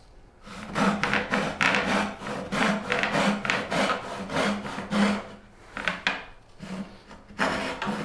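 A freshly sharpened hand saw cuts wood for a moulding, making steady back-and-forth rasping strokes that are close and continuous, briefly pausing once before the strokes resume.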